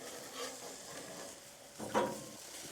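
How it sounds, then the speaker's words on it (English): Mushrooms are flipped on a grill, giving soft scraping and a brief sizzle burst near the end, close and fairly quiet, with no talk. "It's time for the flip. So, first we're going to flip our mushrooms."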